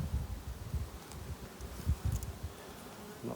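Honey bees from powerful stock buzz around hives being moved to heather moor, a soft low droning hum with irregular swells, faint and close, no voices present.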